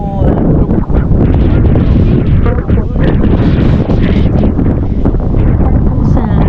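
Strong coastal wind at Big Sur buffets the microphone in loud, continuous gusty roaring, with a voice partly buried in the blasts.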